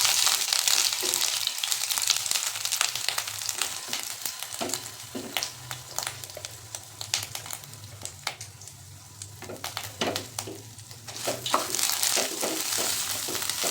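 Paneer frying and being stirred in melted ghee for Ganesh festival modak, a steady close sizzle broken by repeated scraping stirs and clinks throughout, with no voices.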